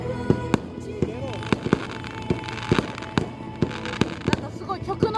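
Fireworks at the Kuka summer festival at Mukuno fishing port burst in rapid, sharp bangs and crackles, some near and loud, others softer, while family members chat and music plays faintly.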